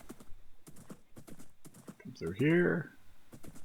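Hooves clip-clop steadily as a horse is ridden in a video game, with a horse's whinny rising briefly near the middle and someone talking over the footsteps throughout.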